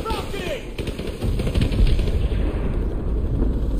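Gunfire in a modern war game, starting sparse and swelling into loud, dense bursts of automatic fire, with voices calling out during the exchange.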